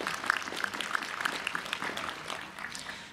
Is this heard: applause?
yes